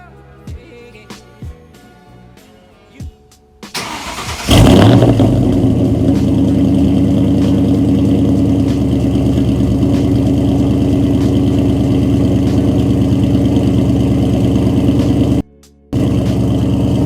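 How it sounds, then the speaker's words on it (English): A drag car engine cold-starts with a sharp cranking burst after a few clicks and taps, then settles into a loud, steady, lumpy idle that carries on close up, cutting out briefly near the end before returning. "I'm gonna do a cold start for you guys"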